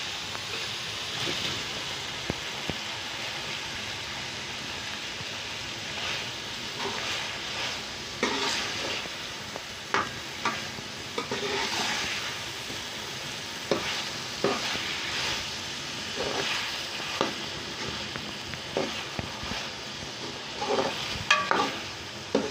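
Masala and chibbar (chana dal) fry in a pan, with a steady close sizzle and frequent scraping, stirring clatter throughout.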